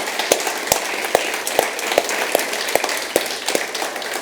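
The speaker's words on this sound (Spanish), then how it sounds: "¿Por qué no le damos un fuerte aplauso a Dios" A church congregation claps in unison, sharp, evenly spaced beats about twice a second over a wash of scattered hand claps and crowd murmur.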